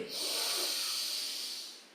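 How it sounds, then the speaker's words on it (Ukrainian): A long, full exhale pushed out to the end during a breathing exercise for flattening the belly, a steady close breathy hiss that swells quickly and fades near the end. "Повний видих до кінця."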